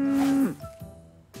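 A cow gives a single loud, close moo that drops in pitch at its end, followed by a few softer short low calls.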